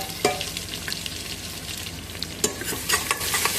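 Chopped onion drops into hot oil with cinnamon, fennel, cardamom and bay leaf for mutton biryani, giving a loud, close, continuous sizzle with a couple of sharp clatters near the start and end.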